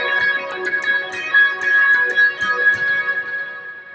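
Electric guitar lead part for a song, drenched in delay and reverb for a swirly wash, picked notes ringing into steady repeating echoes, played alone at moderate level.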